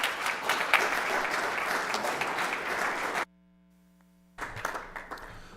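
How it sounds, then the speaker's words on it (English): An audience at a school board meeting gives a round of applause, steady clapping for about three seconds, then a cut to near silence with a faint electrical hum, before the clapping briefly resumes. "Let's give them a round of applause."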